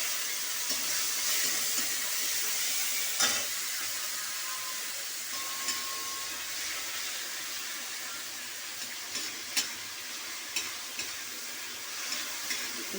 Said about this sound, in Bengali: আমি এই চিংড়ি মাছগুলো